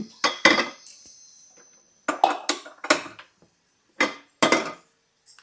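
A cooking pan is set down on a kitchen stove before ladies finger curry, giving several sharp metallic clanks and scrapes in short bursts with quiet pauses between, close and fairly loud.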